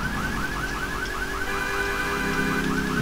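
Looping warble of a car alarm going off in GTA III, loud and steady throughout with a low engine rumble beneath and no talking.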